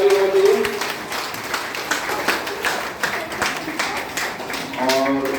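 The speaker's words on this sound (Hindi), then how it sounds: "जोरदार ताली होनी चाहिए" Audience applause welcoming first-time attendees at a DXN meeting in a hall, a steady wash of many hands clapping throughout, with some voices and a louder burst near the end.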